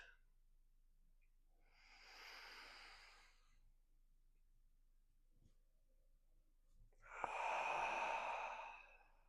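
Two slow, soft exhales during a seated stretching routine, a breathy rush around the two-second mark and a stronger one near the end, close and quiet with silence between.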